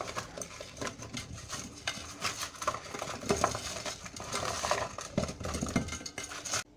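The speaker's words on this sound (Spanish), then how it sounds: "Mezclamos directamente con las manos limpias." Hands mixing milk-fed lamb with salt and cherry tomatoes in a dish for a traditional roast, giving a steady run of wet squelching and patting with clinks against the dish, close and fairly loud, no voices.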